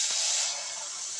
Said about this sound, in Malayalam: മാവ് ഒഴിച്ചു കൊടുക്കാം